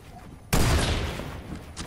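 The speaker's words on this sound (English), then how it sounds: "Watch out, he's sniping. I have a sniper, it's okay." A sniper rifle fires in a video game: one sharp, loud shot bursts out after a quiet moment, then a decaying rumble and a smaller crack near the end.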